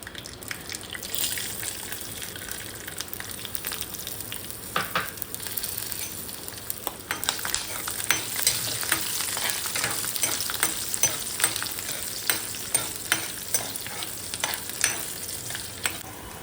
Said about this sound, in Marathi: नेक्स्ट आपण ह्यात घालणार आहोत आपल्या लसूण.